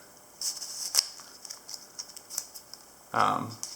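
A Lionsteel Roundhead Barlow knife with an M390 blade slices Italian Tuscan leather in a string of crisp, close snips and scrapes, then a brief voice cuts in near the end.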